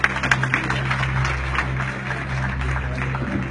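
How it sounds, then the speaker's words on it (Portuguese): A church congregation applauds in a large hall, a steady wash of many hands clapping at moderate distance over a low sustained hum, with no clear talk on top. "Os que podem, tomem o seu assento aplaudindo a Jesus, porque Ele é bom."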